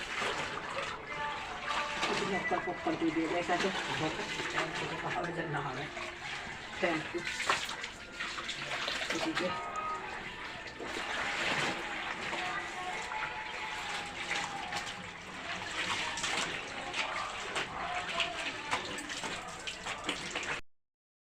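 Tap water runs steadily at close range while household items are washed, with clattering and splashing layered over the flow and voices talking throughout.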